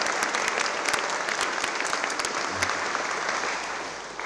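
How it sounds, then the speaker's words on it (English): Graduation ceremony audience applauding the education center staff, a dense, loud round of clapping that holds steady before easing off near the end. "join me in a special round of applause for the Education Center staff"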